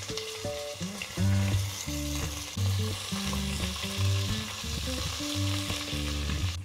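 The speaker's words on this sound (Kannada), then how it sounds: "ಸ್ವಲ್ಪ ಒಗ್ಗರಣೆಗೆ ಹಿಂಗೆ ಹಾಕೋಣ" Mustard seeds, cumin, chilli and curry leaves crackle and sizzle in hot tempering oil for a ripe mango sambar, a steady close frying hiss running under a backdrop of tonal music.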